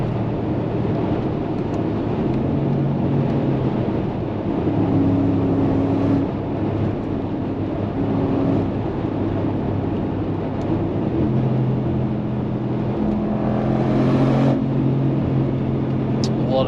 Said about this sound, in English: These side pipes, it sounds like a demon.